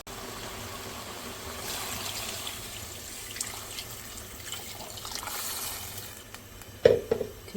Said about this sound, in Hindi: मैं इसमें पानी डालूँगी।